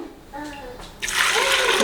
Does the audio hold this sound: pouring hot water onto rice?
yes